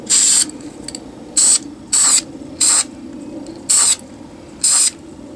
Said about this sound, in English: I'm just going to spray these little parts